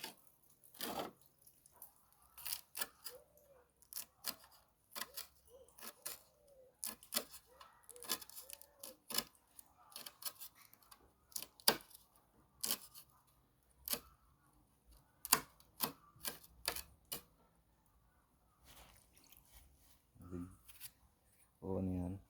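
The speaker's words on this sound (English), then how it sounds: "Next piece of garlic. Start cut them up now." A knife chops garlic cloves on a board, giving sharp, irregular taps scattered throughout, close but fairly quiet, with a soft voice in between.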